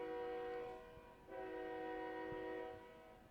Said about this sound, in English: Sorry for the train. I live right by a railroad track.